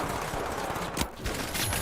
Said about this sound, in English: Quick scope headshot, baby, and then the grenade killed the other.